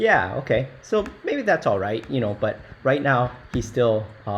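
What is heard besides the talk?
No everyday noises stand out.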